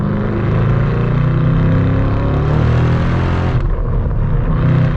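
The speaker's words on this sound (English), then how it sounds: "heard a little bit of that supercharger whine" Supercharger whine from a 2014 SVT Shelby GT500 Mustang rising with revs on a Texas Hill Country drive, a steady loud engine drone with a higher whine on top that drops off abruptly near the end.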